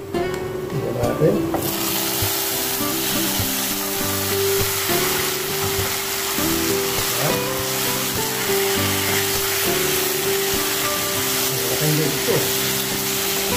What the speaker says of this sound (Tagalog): Gisa-gisa lang natin hanggang lumabas ang mantika